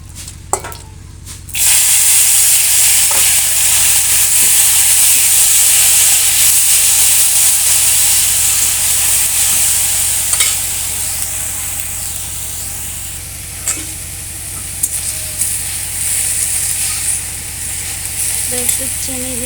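Florets hit hot oil already seasoned with dried red chili and mustard seeds, bursting into a sudden loud sizzle that settles into a sustained hiss, broken by occasional stirring clicks and spatters.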